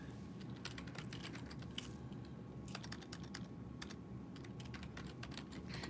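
Steady typing on a computer keyboard, quick irregular clicks and bursts of keystrokes with short pauses, faint and close against a quiet background hum.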